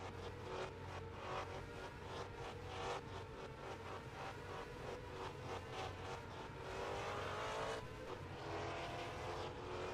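Formula Micro race cars lapping an oval track in Aguascalientes, a steady buzzing engine drone with fluctuating pitch from several cars, fairly distant and faint, swelling slightly toward the end.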